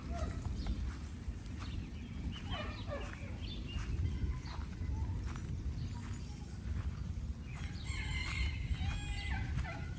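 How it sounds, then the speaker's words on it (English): Bantam chickens cluck and a rooster crows in a rural yard after a tornado in southern Missouri, the calls fairly faint and scattered over a steady low outdoor rumble. "Check on the bantams."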